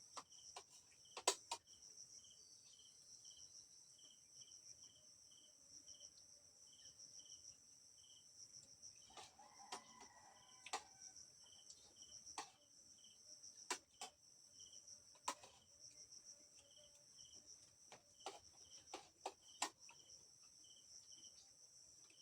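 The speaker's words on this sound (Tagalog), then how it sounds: "kulisap at ibon, huni ng ibon." Crickets and other insects trill steadily in a rural rice field at night, with a repeated chirp pulsing over the drone and scattered sharp clicks and faint bird calls around it.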